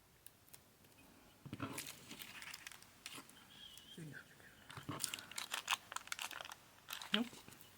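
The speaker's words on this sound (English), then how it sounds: "that's how I learned how to cut with my Xacto knife" An Xacto knife cuts paper in a sketchbook, with faint scratchy scraping strokes and crinkling in irregular bursts, close and quiet.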